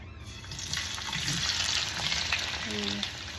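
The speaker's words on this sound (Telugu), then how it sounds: "బాగా వేయించుకుందాం" Andhra-style tomato chutney fries in a pan, an even, continuous sizzle running throughout at moderate loudness, with a faint low hum near the end.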